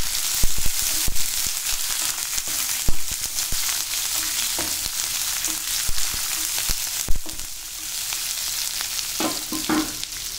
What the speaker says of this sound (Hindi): एक प्याज हमने काट के रखा था, ये प्याज डालेंगे।